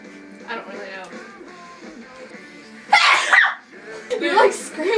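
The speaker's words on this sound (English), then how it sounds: "You like scream when you sneeze." A sharp, loud sneeze bursts out midway, followed by another noisy exhalation, with people talking quietly before it.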